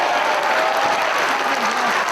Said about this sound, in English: Draws some applause from the fans here in Collinsville.